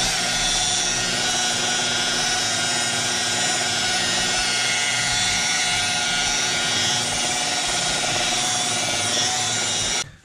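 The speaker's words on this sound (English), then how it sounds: "Such a big polisher is a little bit hard to get in the corners" A large power polisher buffs a plastic part that has been sanded with 1,000 grit for mold making, making a loud, continuous whirring drone that runs unbroken until it stops abruptly at the end.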